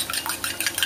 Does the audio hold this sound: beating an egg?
yes